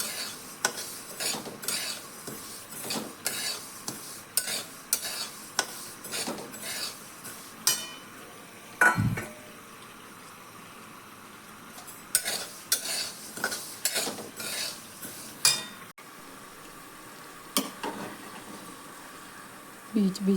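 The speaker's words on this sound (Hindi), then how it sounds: "बीच बीच में प्याज को भी चलाते रहते हैं।" Onions cooking in a pan while a utensil stirs them, giving repeated scraping and clinking strokes at an irregular rhythm over a soft, steady sizzle, close and fairly loud.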